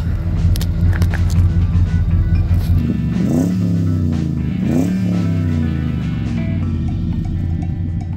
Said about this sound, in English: It's a pretty healthy sounding V8.